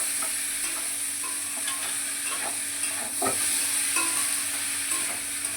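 Tomato pieces frying in a pan for a potato and cauliflower curry, a steady close sizzle with faint clicks of stirring scattered through and a low hum underneath.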